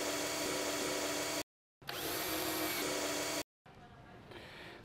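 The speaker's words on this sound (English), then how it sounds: "do it by hand first, just so it doesn't bounce or jump when you use the drill" A power drill drives screws into wooden Tetris-style shelves in two loud whirring bursts, each a second or more long and split by short silences, followed by quieter handling noise.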